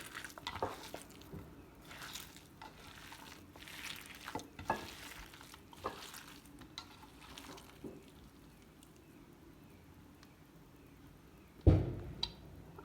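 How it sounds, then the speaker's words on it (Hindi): A chapli kabab mixture is worked by hand in a bowl, giving soft, moist squelching and stirring sounds with irregular rhythm, close and fairly quiet, ending with a sharper knock. "मैं इसको अच्छी तरह से मिक्स कर लूँ"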